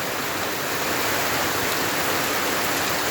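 Heavy rain pours down in a dense, steady roar that stays constant and loud throughout, with no pauses or other sounds.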